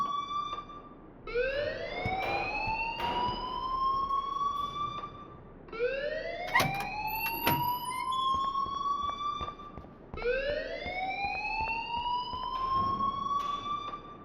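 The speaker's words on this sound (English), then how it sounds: "please turn off that alarm since that's your job" A school alarm in the Life Is Strange Remastered video game wails in a rising, siren-like sweep that repeats three times at steady intervals, loud and alone.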